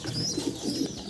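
Pigeons coo softly and close by in a few low, rounded pulses, with faint rustling behind them. The birds are kept with their chicks.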